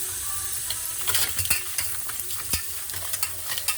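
A utensil scrapes and clicks against a bowl while stirring and mixing salted, turmeric-washed ingredients, an irregular run of close, sharp knocks and rasps over a soft background hiss.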